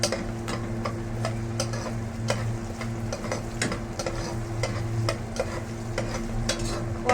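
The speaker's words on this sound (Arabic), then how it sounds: "وهسيب بقى البصله بتاعتي تتحمر وتاخد اللون الذهبي" Onion and red pepper fry in a pan with a steady sizzle, while a spoon stirs and taps against the pan in quick, regular strokes, close and clear.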